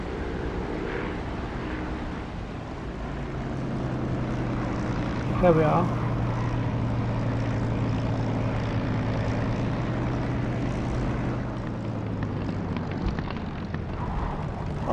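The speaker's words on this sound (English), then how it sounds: "Listen for the engine volume to pick up as I get reflected noise off the engine" Aircraft engine drone in the DCS flight simulator as the landing gear comes down on approach to a runway: a steady low hum throughout, briefly swelling near the middle, with someone talking over it.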